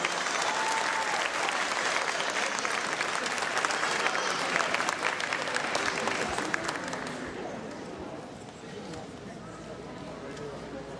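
Applause at a school student inventors' awards ceremony, a dense steady round of clapping from the audience that thins and fades toward the end, leaving a quieter hum of room noise.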